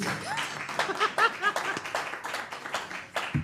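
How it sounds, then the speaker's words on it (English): A small crowd claps in a brief burst of applause, with some cheering voices and a bit of laughter mixed in. "I'm not used to that being an applause line"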